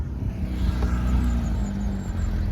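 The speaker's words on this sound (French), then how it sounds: "Il y a quelque chose qui arrive là. Oh, 992 GT3." A Porsche 992 GT3 sports car approaches at a calm pace in the dark, its engine a steady mid-level hum that swells slightly as it nears, fairly faint and without any voices.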